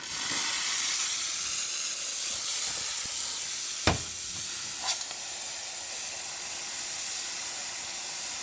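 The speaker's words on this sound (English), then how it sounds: "Now for the steamer." A La Pavoni espresso machine's steam wand hisses steadily and broadly at moderate level, with a couple of brief clicks or sputters partway through.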